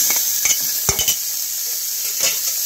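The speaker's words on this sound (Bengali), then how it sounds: "1 মিনিটের মতো ভেজে নেব" Chicken goes into a hot pan and fries with a continuous bright sizzle, punctuated by several clattering knocks and scrapes of a utensil against the metal pan, close and loud.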